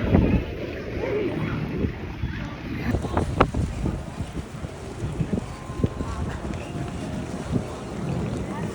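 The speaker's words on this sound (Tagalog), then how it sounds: "Malamig ang hangin." Cold wind buffets the microphone in gusty rumbles outdoors in Tokyo, Japan, with people talking intermittently underneath.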